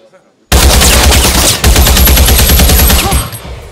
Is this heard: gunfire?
yes